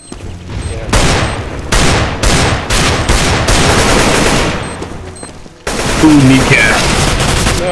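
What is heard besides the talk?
Tec-9 and AK gunfire in video game CS:GO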